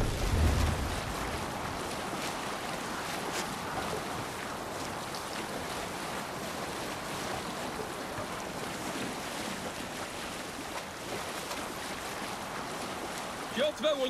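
Viking longship sailing across open water in Assassin's Creed Valhalla, a constant rush of waves and wind noise with a heavy thump at the start and end, and voices speaking underneath.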